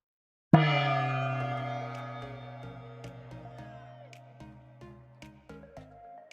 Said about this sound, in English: One hit of the gong, everybody.